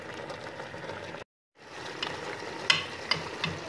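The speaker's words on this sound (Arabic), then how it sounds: "نحركو حتى يتقلى لنا مزيان، وانا كنقلي فيه في ريحه السمن طالعه" Meat frying in homemade ghee while being stirred, a steady close sizzle with a brief gap and a few sharp scrapes or clinks of the utensil near the end.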